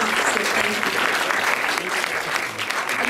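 A student scientific society audience applauds in a hall: a loud, unbroken burst of many people clapping throughout, close and dense, with faint voices mixed in.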